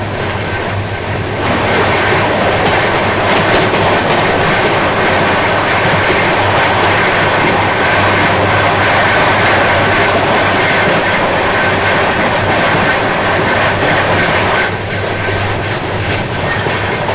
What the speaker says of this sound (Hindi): पहले अभी आपकी आ रही है गाजीपुर बांद्रा, क्योंकि उसने ओवरटेक कर लिया अवध एक्सप्रेस को